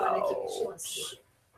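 Dogs whimper and whine with a falling tone near a set of French doors, followed by a brief higher yelp, fairly close and alone, fading out at the end.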